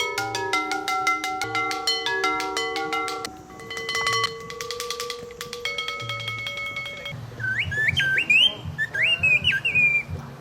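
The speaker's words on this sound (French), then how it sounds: "Et alors, l'oiseau s'est mis à chanter." Bright whistled and chirping bird song rises near the end over a ringing, bell-like melodic background, close and fairly loud.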